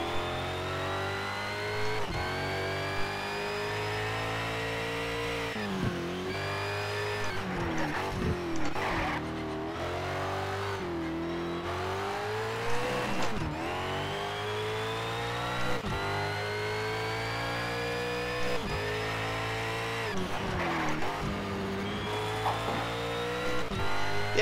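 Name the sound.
race car engine while driving in video game Need for Speed Shift 2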